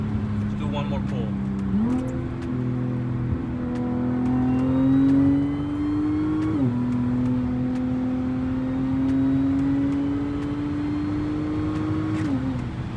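A 400 hp supercharged Audi S4 climbs through several rising pulls at night, engine drone and supercharger whine stepping up with each gear change, close and steady.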